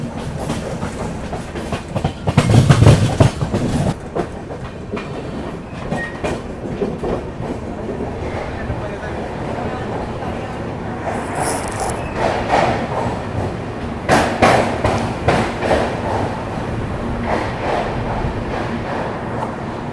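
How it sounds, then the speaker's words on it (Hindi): Heard from on board, the Karnataka Sampark Kranti express rolls through Rani Kamlapati station without stopping, with continuous wheel rumble, rhythmic clickety-clack over rail joints, louder bursts and a brief high wheel squeal, with no voices. "यहाँ पर अभी अपनी कर्नाटका संपर्क क्रांति स्किप कर रही है रानी कमलापति रेलवे स्टेशन को"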